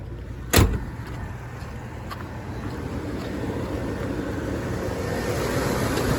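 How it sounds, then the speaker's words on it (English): A 1975 Pontiac Grandville convertible with a 400 engine runs at a steady idle, a continuous low rumble recorded nearby, opened by a single sharp thump. "I'll fire her up. You can see how it runs. Jumps right on it. It's got the 400 in it."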